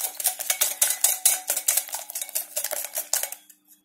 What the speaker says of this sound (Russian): Взбиваем венчиком.